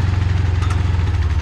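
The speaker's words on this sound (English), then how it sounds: "It's actually a pretty good go-kart. It's made by Coleman." A small Coleman go-kart engine runs nearby on a farm, a loud, rapid, evenly pulsing putter that holds steady for the whole moment, with no voices.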